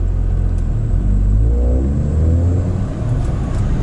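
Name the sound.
Mazda MX-5 engine in the video game Assetto Corsa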